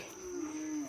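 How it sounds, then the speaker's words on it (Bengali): A cow in the Chattogram hill country gives a single sustained low moo, fairly faint and distant, against quiet outdoor ambience. "গরুর ডাক"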